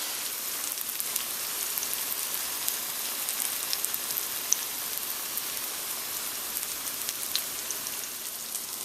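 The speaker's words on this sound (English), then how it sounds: "go in with the pieces of plantain and let them fry and brown" Plantain pieces fry in melted butter in a wide pan over a medium flame, giving a steady, fine sizzle with scattered small pops, close and fairly quiet, no talking.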